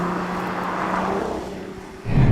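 Nissan Z sports car with S-tune suspension, engine note heard from inside as a steady drone that eases off, then a sudden louder, deeper surge of revs near the end.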